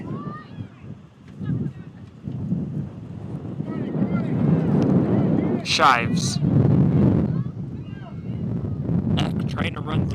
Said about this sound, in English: the wind continues to just be gusting through